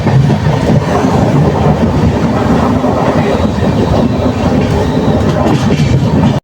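The 12837 Howrah-Puri Superfast Express runs into Cuttack with a constant close rumble and rhythmic wheel clatter, loud and unbroken, without any talking.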